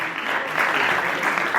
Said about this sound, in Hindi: और ताली की आवाज क्या बात है, कम क्यों आ रही है?